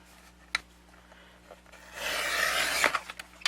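Wrapping paper trimmed closely with scissors, a few faint snips and taps followed by a brighter papery rustling scrape, all close and quiet.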